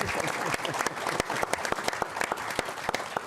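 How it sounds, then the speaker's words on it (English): An audience applauds at a Bethlehem 275th anniversary celebrity scrimmage, sustained dense clapping from a crowd, fairly close and steady throughout. "Let's give them a nice round of applause."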